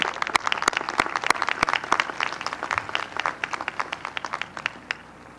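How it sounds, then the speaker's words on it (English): Applause for doctoral graduates at a university commencement ceremony. Many hands clap together, with sharp individual claps standing out from the crowd, and the clapping gradually thins and tapers off near the end. "Let's give another round of applause to our doctoral graduates."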